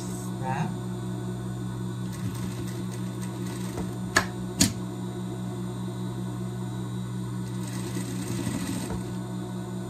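A sewing machine stitches fabric for a pet pajama, running as a steady close mechanical hum with a couple of sharp clicks partway through and no voices.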